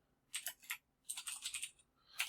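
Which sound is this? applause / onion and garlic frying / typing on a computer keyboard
typing on a computer keyboard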